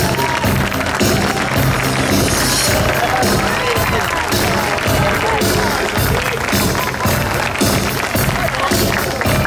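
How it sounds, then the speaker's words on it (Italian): Applause and cheering from an audience greeting the couples at a closing presentation of athletes, a dense continuous wash of clapping and crowd noise lasting throughout. "Applauso anche per loro!"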